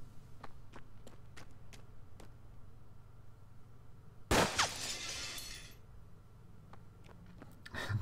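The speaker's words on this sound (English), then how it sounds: "Glass broke from the sheer wind force here." Glass shatters from wind force in the Hard West video game, a single loud burst with a bright crashing spray that tails off over about a second, set against faint ticking and a low steady hum.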